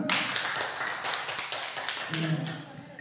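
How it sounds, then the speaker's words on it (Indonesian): A group claps together in applause during a counselling training session, a dense, steady patter of many hands lasting the whole moment, with a faint murmur of voices underneath. "Oke, tepuk tangan dulu semua."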